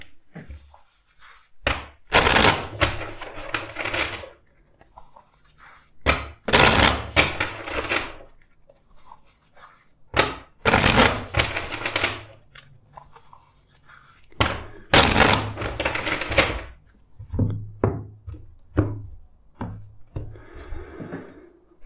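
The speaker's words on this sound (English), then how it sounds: "Let's shuffle the deck" A tarot card deck is shuffled several times in a row, producing bursts of crisp riffling and tapping with short pauses between them, close and fairly loud, with no talking.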